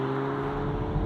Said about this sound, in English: we're driving the Ford Focus ST, and powering this car is an interesting engine